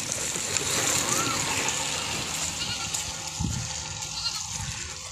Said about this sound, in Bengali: পানি আসতেছে আর আসতেছে, অনেক স্রোতে জোরে আসতেছে।